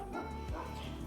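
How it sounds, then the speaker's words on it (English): Close by, an agitated dog gives a brief muffled woof and whine over a constant low indoor hum, one short outburst within about a second. "Sorry about the dog"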